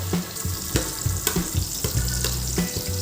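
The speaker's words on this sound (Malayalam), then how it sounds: "സവാള ചെറുതായി അരിഞ്ഞതും കൂടി ചേർത്ത് തുടരെ ഇളക്കി വഴറ്റിയെടുക്കാം" Finely chopped onions sautéing in hot oil while being stirred continuously, a close, steady sizzle broken by a series of sharp scraping and clattering strokes from the spoon against the pan.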